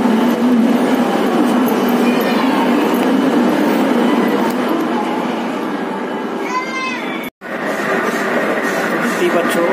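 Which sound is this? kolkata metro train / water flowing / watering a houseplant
kolkata metro train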